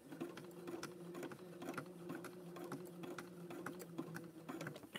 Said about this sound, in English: Here, and I turn my sewing machine so you can see better.